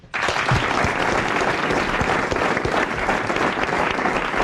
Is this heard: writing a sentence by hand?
no